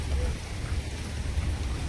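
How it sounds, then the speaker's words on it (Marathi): Heavy monsoon rain pours steadily during a motorcycle ride near Bhandardara in Maharashtra, a dense, unbroken hiss of falling water with low rumbling underneath, loud and close throughout with no pauses. "अजून पण पाऊस तर काय थांबत नाही."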